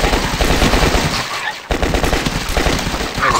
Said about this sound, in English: All right, so the M4 is pretty good